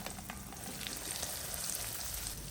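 Oil crackles and sizzles steadily with stuffed okra and asafoetida frying in a pan, a dense continuous hiss with small pops throughout.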